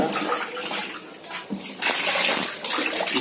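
Water poured over a Persian cat during a bath to rinse out shampoo, splashing in uneven bursts that swell and fade, close by.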